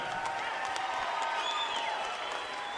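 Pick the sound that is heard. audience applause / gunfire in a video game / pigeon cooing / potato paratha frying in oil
audience applause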